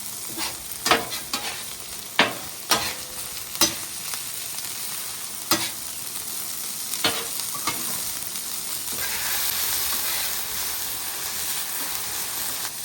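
Garlic frying in butter on a griddle for coconut fried rice, a steady sizzle under sharp scraping knocks as it is stirred and tossed, loud and close with no voices.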